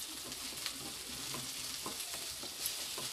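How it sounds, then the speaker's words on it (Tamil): Onions and small tomato pieces fry in a pan for an aloo paratha filling, a soft steady sizzle broken by light stirring scrapes, close by and quiet with no voices. "சின்னோண்டு தக்காளி அதை வந்து போட்டு இறைய நல்லா வணக்கி எடுத்துடலாம்."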